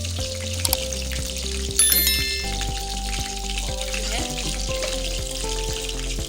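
Oil sizzles in a cooking pot being readied for Indian-style fish curry, a steady loud frying hiss with clinks of utensils throughout, while someone speaks briefly over it.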